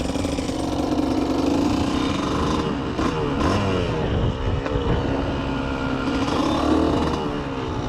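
A 1990 Kawasaki KDX200 two-stroke off-road motorcycle runs steadily nearby, its raspy engine drone continuous throughout, with wind buffeting the microphone.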